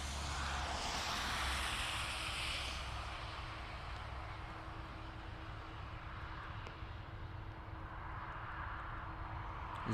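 An Airbus A330 airliner departing Dublin Airport for JFK, heard as a steady, distant broadband jet roar with a faint sustained engine tone, fairly quiet and continuous throughout with no talk.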